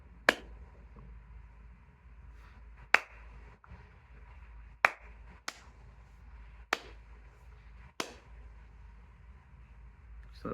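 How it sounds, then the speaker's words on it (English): A single pair of hands claps a slow, uneven rhythm counted in 4/4 time, about six sharp, close claps spaced a second or two apart over a quiet room. "It's not a very good clap."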